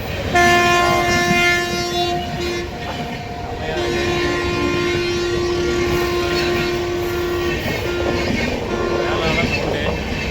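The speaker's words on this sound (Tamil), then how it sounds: "இப்படி ரயில் போகுது பாருங்கள்" A loud train rolls by up close with a rumbling, clattering rush, its horn sounding a long, sustained blast that breaks briefly and resumes.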